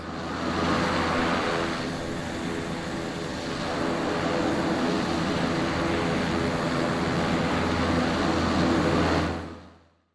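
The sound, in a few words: Black Square Starship turboprop engines, Microsoft Flight Simulator video game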